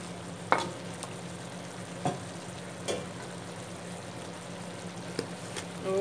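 Tomatoes sizzling in a hot pan, a steady soft frying hiss punctuated by occasional scrape-and-tap clicks of stirring, quiet and close, with no talk.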